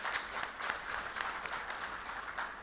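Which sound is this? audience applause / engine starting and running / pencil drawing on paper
audience applause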